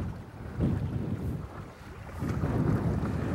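Wind gusting over Lake Erie around a fishing boat, a steady low roar with buffeting on the microphone and surging rises and falls, with waves on the water beneath.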